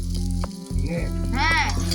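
Oil sizzles and crackles steadily as fried eggs go into a curry in a pan, with a brief hiss rising near the end and a voice speaking over it.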